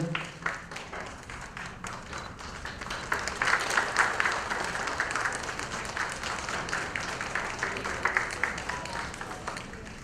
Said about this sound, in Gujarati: મિત્રો ખૂબ બધી તાળીઓના નાદ સાથે માનનીય ચેરમેન શ્રીનું અત્યારે સ્વાગત થઈ રહ્યું છે